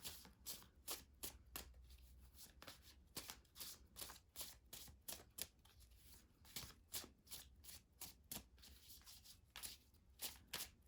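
Tarot cards are shuffled over and over, a quick run of soft riffling snaps and flutters, close up and quiet with no voices.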